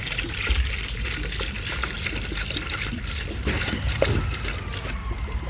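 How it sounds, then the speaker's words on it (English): Coolant water drains from a car radiator bleeder screw, a continuous close trickle and splatter with small gurgling surges, steady throughout and unaccompanied by talk. "Y'all see all that water coming out?"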